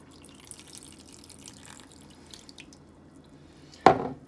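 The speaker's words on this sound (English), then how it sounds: "we are gonna add, I would say, about a half a cup of milk" Half a cup of milk is poured into a meatloaf mixture of ground meat and eggs, a short, close liquid splash arriving abruptly at the end after faint handling noises and near silence.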